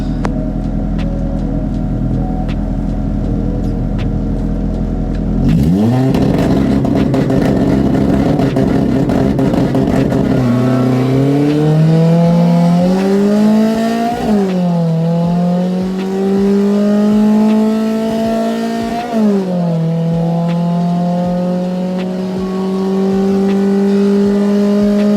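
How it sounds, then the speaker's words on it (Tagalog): A Mitsubishi Lancer race car with a slight misfire, on the Batangas racing circuit, roars loudly at close range, climbing through gears in repeated rising revving sweeps with a rough, stuttering edge and no talk. "meron siyang konting putol-putol na tunog, which is yun yung palya niya"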